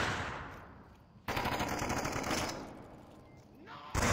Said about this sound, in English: Death Auto putting down heavy fire, forcing Matt H out of his position